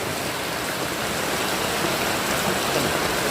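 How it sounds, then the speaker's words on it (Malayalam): Steady medium rain falls gently and continuously outdoors, a close, even hiss of drops on surfaces with no breaks or voices. "ഒരു മീഡിയം മഴയാണ്, വലിയൊരു മഴയൊന്നുമല്ല, എന്നാലും നല്ല ശാന്തമായ ഒരു മഴയാണ്"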